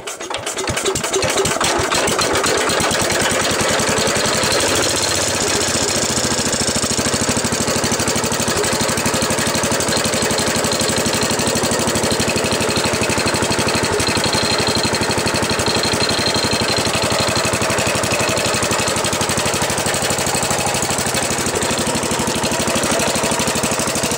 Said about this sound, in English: Carburetor still needs to be adjusted some, but hasn't run for about probably a couple days now.